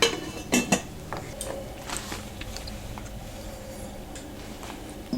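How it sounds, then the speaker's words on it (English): A spoon stirs a ginger flu remedy in a metal pot, producing a few sharp clinks and scrapes near the start, then a softer steady swirl of faint clatter. "So just stir it up and then taste it later as it warms up."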